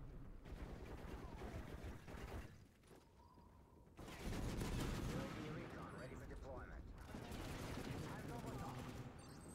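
Dense bursts of gunfire and explosive fire from the Modern Warfare 3 video game, loud and continuous across the clip, with a brief lull near the middle and a voice talking underneath.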